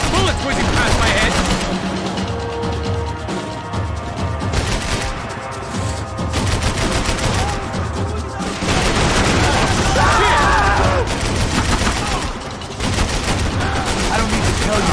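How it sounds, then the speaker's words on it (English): Gunfire from the video game Max Payne 3, with sustained rapid automatic bursts, sharp cracks and impacts filling a chaotic firefight, while voices shout over it. "I can't concentrate with bullets whizzing past my head!"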